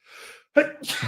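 A single sudden, loud sneeze from a man on a live sports-betting talk show, preceded by a soft breathy intake and followed immediately by nearby speech.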